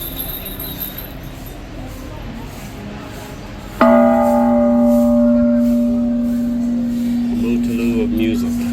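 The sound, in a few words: temple bell ringing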